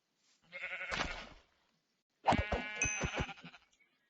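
Two bleats from a sheep in Hungry World, a Web3 Minecraft game, come one after the other with a short gap between them. The second is wavering and pulsed, and both are clear and fairly close.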